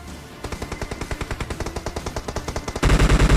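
An M249 machine gun in the BGMI battle royale game fires one long, fast, evenly spaced automatic burst that grows louder and heavier near the end, with no talk over it.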